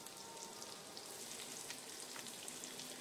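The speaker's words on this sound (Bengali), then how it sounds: "তার মধ্যে আমি 7-8 কোয়া রসুন কুচিয়ে রেখেছিলাম, সেই রসুন কুচিটা দিয়ে দিলাম।" Chopped garlic, seven or eight cloves, sizzling in three spoons of hot white oil, a faint, steady crackling hiss with scattered pops and no voices.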